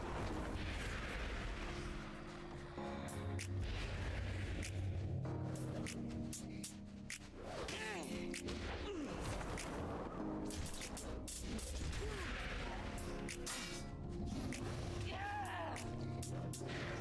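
Rapid video game gunfire and booming impacts in World of Warcraft, bursts of shots and explosions repeating across the stretch, fairly faint and mixed with game effects and a voice talking.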